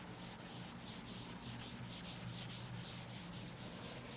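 Steady dry scrubbing of writing being rubbed off a classroom board, a continuous soft rasp with faint rhythmic strokes, heard close and alone.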